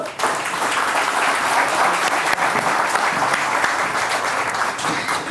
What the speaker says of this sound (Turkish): Sizler alkışlıyorsunuz.